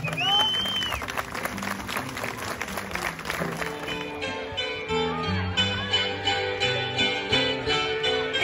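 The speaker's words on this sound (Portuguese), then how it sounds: "essa salva de palmas calorosas para eles" Warm applause from an audience for a folk dance group at a Corpus Christi festival, steady clapping for about four seconds before fading as music with rhythmic beats takes over.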